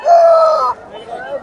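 A fighting rooster of the Sipai breed crows once at the Gokavaram market, a loud, close call lasting under a second, followed by softer market murmur and a faint cluck.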